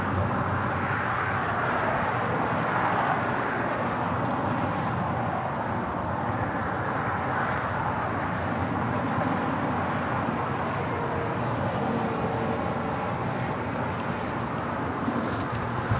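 An Air China Boeing 777-300ER, arriving at LAX from Beijing after a long-haul flight, gives a broad, sustained jet roar that holds steady and fairly loud throughout, with no speech.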